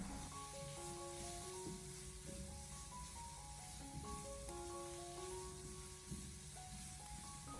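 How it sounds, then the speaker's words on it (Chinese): Ginger, garlic and small chili peppers stir-frying in oil in a wok, a soft continuous sizzle heard faintly beneath steady background music. "再把切好的姜蒜还有小米辣放进来，然后再继续的把它翻炒一小会"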